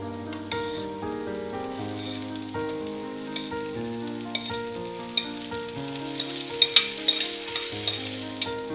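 Steady frying sizzle of onions sautéing in a pan for Kongu-style green gram curry, with a few sharper crackles and spatula scrapes toward the end; no voices.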